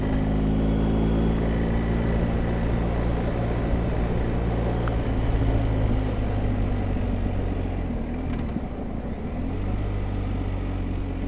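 BMW R 1250 GSA motorcycle riding on the road, a steady engine drone mixed with heavy wind rush that stays loud and continuous, with a slight dip in pitch near the end.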